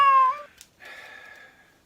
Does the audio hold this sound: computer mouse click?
no